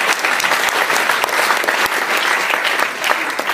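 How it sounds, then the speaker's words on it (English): A teaching-conference keynote audience breaks into dense, sustained applause, a steady wash of many hands clapping close by that continues evenly for the whole stretch. "Can we give a round of applause"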